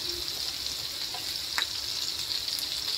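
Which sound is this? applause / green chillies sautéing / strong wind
green chillies sautéing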